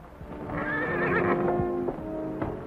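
A horse whinnies loudly and at length, a high wavering neigh that falls away, with a few hoof thuds and snorts around it.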